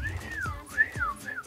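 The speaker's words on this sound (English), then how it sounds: "Good quality whistles." A person whistling a sliding, wavering melody, clear and close, with swoops rising and falling over faint background noise and a couple of soft thumps.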